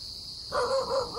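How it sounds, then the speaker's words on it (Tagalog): A dog in a forest gives a couple of quick barks partway through, over a steady high-pitched hum in the background. "May aso."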